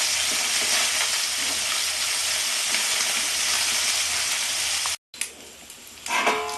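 Continuous loud sizzling of small gule fish frying in oil, broken by a brief gap, then quieter sizzling with a few stirring scrapes.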